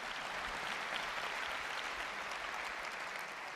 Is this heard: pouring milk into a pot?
no